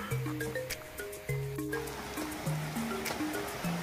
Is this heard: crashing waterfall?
yes